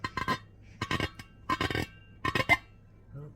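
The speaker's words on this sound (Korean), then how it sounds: "이렇게 뽀득뽀득합니다." Short squeaky squeals from a clean surface rubbed after washing with homemade coffee-grounds kitchen soap, coming in four quick bursts with brief pauses between them, close and fairly faint.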